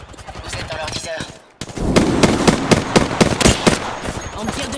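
Rapid bursts of automatic gunfire ring out in an Apex Legends match, loud and repeated shots in quick rhythm after a brief pause, with faint game voice chatter underneath.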